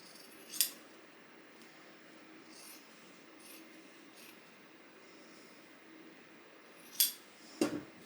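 Scissors cut denim pieces for a jean purse, giving a few sharp metallic snips near the start and end. Soft fabric rustling and handling fill the quiet stretch in between, with no voice.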